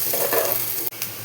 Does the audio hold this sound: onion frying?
yes